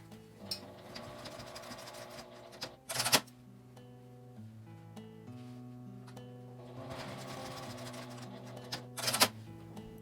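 A home sewing machine tacks a strap onto William Morris print fabric for a small cosmetic tote bag, with quiet mechanical whirring and two short, louder bursts of stitching separated by a long pause.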